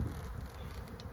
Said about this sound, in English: This whole frame covered in bees.